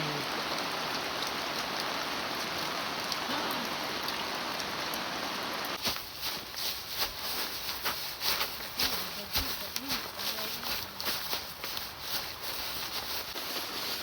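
Heavy rain falls on a mountain rice field, a dense steady patter that gives way to a choppier spatter of drops, with voices faintly present.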